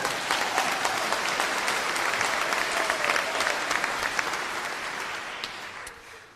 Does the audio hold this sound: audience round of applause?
yes